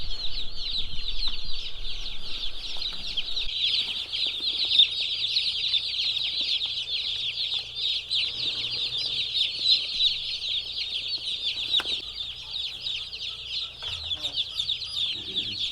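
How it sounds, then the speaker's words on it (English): A dense chorus of high-pitched cheeping and clucking broiler chicks fills the space continuously, many birds peeping at once close by. "Now this is our newest batch of broiler chickens."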